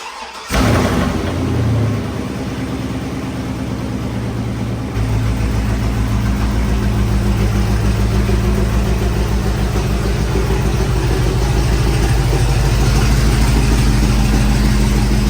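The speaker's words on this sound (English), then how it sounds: "So I'm gonna get the truck pulled in here" A 2003-2006 Chevy truck engine starts and runs loud and close, a steady low rumble as the truck is driven into a garage.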